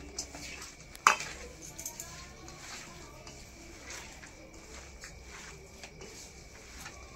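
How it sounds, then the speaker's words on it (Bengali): Boiled cauliflower florets being mixed by hand with spices in a bowl, giving soft, quiet squishing and rustling with one sharp clink of a utensil or dish early on, fairly faint and steady throughout. "ফুলকপিগুলো একেবারে ভালো করে হাত দিয়ে মেখে নেব।"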